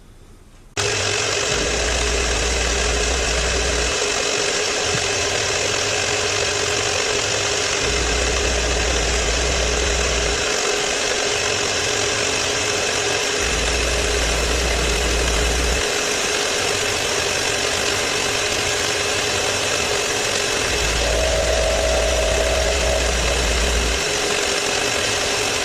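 A power tool cuts slots around a purpleheart and maple bowl, a steady high whine broken by repeated periodic low grinding passes of a few seconds each, close and continuous.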